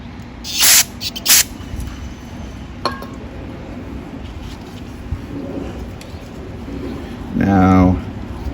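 Cleaner sprays in short hissing bursts into a lawn mower carburetor from a 2017 Yard-machine 20-inch mower, two quick blasts early and a longer one near the end, with small clinks of parts between.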